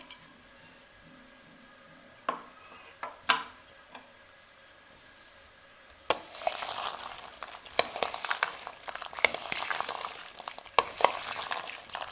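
Boiled chana, potatoes and yogurt for dahi chana chaat are mixed in a bowl. A few isolated taps come first, then a long run of quick, close scraping and clinking as the spoon works through the mix.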